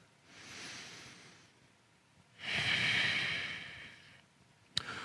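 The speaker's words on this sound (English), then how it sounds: "One more breath." Slow, controlled breaths in and out through the nose during a yoga cool-down, a softer inhale followed by a longer, louder airy exhale, close and quiet, with a small click at the end.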